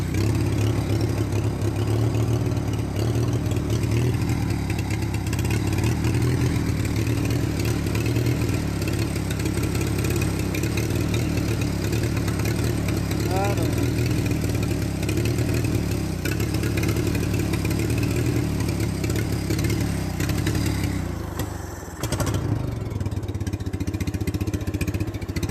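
A Minneapolis Moline BF tractor engine running just above idle after a carburetor adjustment, a steady low chugging drone that stays even and loud throughout, with a brief dip near the end.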